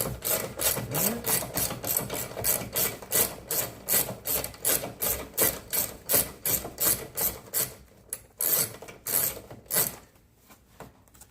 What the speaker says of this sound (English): go in there with our ratchet, with an extension.